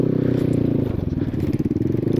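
Honda CRF semi-trial dirt bike engine idling steadily close by, a low buzzing putter with a fast even pulse throughout.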